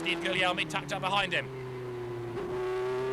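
A TVR Tuscan race car engine drones steadily on throttle at a circuit, a sustained tonal roar with a rising pitch near the end, under a commentator talking over the first half.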